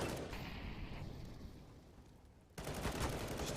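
Rapid gunfire from a Mac 10 and pistols in a CS:GO tournament match, a dense burst of shots fading over a couple of seconds, then an abrupt louder burst near the end.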